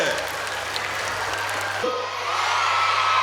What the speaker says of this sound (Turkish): Kocaman bir alkış Ömer abiye.